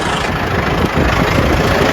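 A farm tractor's engine idles steadily after the tractor has been pulled out, a loud, even rumble close by with no break.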